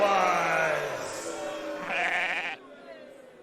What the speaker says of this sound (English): Bertha, the meanest sheep that ever was